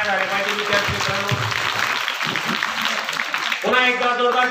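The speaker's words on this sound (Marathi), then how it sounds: "जोरदार टाळ्या झाल्या पाहिजे विद्यार्थी मित्रांनो." Students at a school gathering clap loudly in a dense burst of applause, framed by stretches of someone speaking into a microphone before and after.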